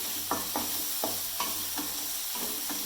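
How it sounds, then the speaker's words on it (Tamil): Small and large onions sauté with tomatoes in a pan for tomato chutney, with a steady sizzle under rhythmic spoon strokes roughly every half second, close and clear, with no voices. "எல்லாமே நல்லா போட்டு நம்ம வதக்கணும்னா அந்த பச்சை வாடை போகுது வரைக்கும்"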